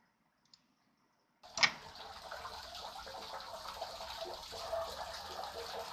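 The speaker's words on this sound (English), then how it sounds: "it will just sound like water is slowly rotating around the user of the experience" Running water in an AR audio prototype slowly circles the listener, starting after a brief silence with a sharp onset, then a steady, soft flowing wash that continues to the end.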